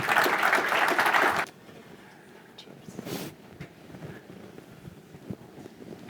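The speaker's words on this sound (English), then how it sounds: "Please give a round of applause for them." An audience applauds a panel at a live tech conference, a loud dense burst of clapping that stops sharply after a second and a half and gives way to quiet room noise and faint movement.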